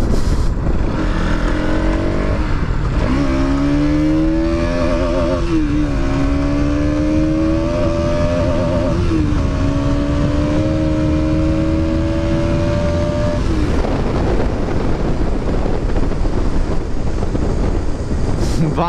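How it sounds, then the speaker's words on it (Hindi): A car engine revs and pulls up through the gears to fourth, its note rising in long steady sweeps and dropping at each shift, loud and close with heavy wind buffeting; no voices. "थोड़ा बहुत लाइक फोर्थ गियर तक ही हमने खींचा"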